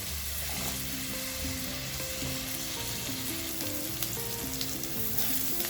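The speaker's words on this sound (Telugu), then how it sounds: "2 స్పూన్ నూనెలో ఉల్లిపాయలు, పచ్చిమిర్చి, అల్లం వేసామండి. ఇది కొద్దిగా ఫ్రై అవ్వాలి." Onions, green chillies and ginger fry in two spoons of oil, making a loud, continuous close sizzle with light stirring scrapes, steady from start to finish with no voices.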